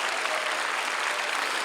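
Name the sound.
congregation applause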